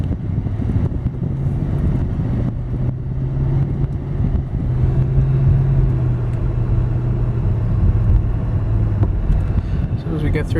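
A 2004 Audi A8 L Quattro AWD sedan cruises on the road, its steady engine drone and low road rumble filling the cabin continuously at close range.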